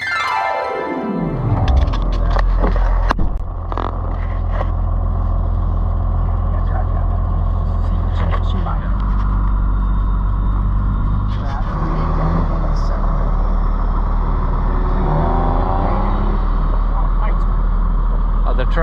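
Oliver 7300 combine with a Chrysler 318 V-8 driving along a road, a steady loud low engine drone with rumble that runs continuously throughout, while people talk in the cab over it.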